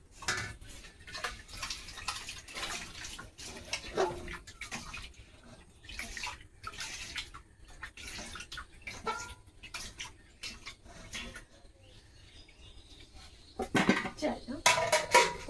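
Rice is tipped into a cooking pot already holding water, with scattered clatters of metal pots and utensils, soft splashes and handling knocks, a busier burst of clanking near the end.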